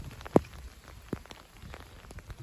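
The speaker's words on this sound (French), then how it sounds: "Donc là maintenant il pleut." Rain from a brief spring shower falling on a surface, a faint steady patter with a few louder isolated drops landing close by.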